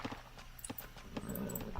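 Light cavalry horses in an Age of Empires-style strategy game, Turks versus Spanish, trot with faint, quick clip-clop hoofbeats at a distance over a low game background.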